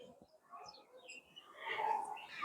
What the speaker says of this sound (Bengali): আর পাখির কিচিরমিচির কেমন লাগছে তোমাদের?